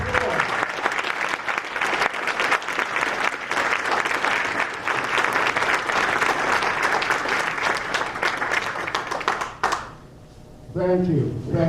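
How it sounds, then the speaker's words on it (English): Long, dense applause from a breakfast audience for a school combined choir, steady for nearly ten seconds before dying away, after which a voice begins speaking. "Let's give them another round of applause."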